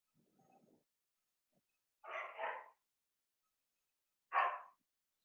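A small dog barking in the background, a soft whimpery yip followed by two short, separate barks in an otherwise quiet room.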